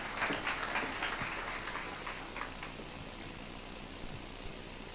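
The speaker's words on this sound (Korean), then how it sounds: "박수로 모실게요" At an indoor tech forum, an audience claps to welcome a presenter, a short burst of moderate applause in the first few seconds that fades into a faint, noisy room hum.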